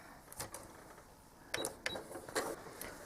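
Sewing machine free-motion quilting a feathered border, with short bursts of stitching and faint mechanical clicks over a soft steady hum, nearby and fairly quiet.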